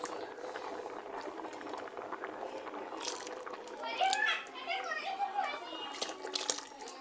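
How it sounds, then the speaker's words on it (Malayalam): Rice simmering in a pot for payasam, a soft bubbling and gurgling heard close and fairly quiet, with faint children's voices in the background. "അപ്പം നമ്മുടെ അരി ഇങ്ങനെ വെന്ത് വന്നുകൊണ്ടിരിക്കുകയാണ്."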